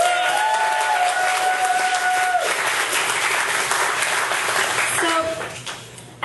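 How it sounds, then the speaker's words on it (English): A crowd at a storytelling night claps and cheers for the venue hosts, a dense, loud burst of applause with whoops and voices mixed in that fades near the end. "can I get a big round of applause to Foam for hosting us again?"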